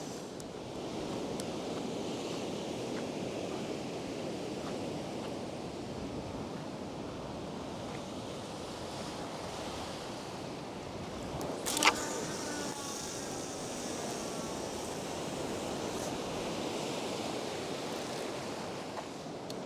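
Surf rolling in steadily on a beach, a continuous broad wash with a brief sharper splash partway through, no voices.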